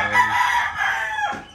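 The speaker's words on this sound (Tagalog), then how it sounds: "Kuha tayo sa manok." A pet backyard rooster crows once, loud and close, in a drawn-out call lasting over a second, with no other sounds around it.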